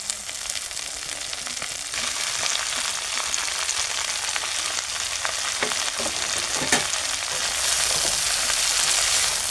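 Chopped water spinach frying with onions in a pan, a dense loud sizzle that swells as the greens go in, with occasional stirring scrapes, close and without speech.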